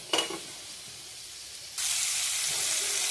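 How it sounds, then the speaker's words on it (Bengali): Boiled green jackfruit sizzles as it is stirred in a hot frying pan, with a brief clatter at the start, then a quieter stretch before a loud, steady frying hiss takes over and holds to the end. "এঁচোড়গুলো একইভাবে একটু নেড়ে নেব।"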